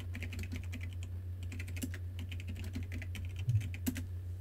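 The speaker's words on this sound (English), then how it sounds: "So you see, you just literally type in commands" Steady typing on a computer keyboard, entering commands into a text-based adventure game in the style of Zork; rapid, uneven clicks close by throughout, over a low steady hum, with no talking.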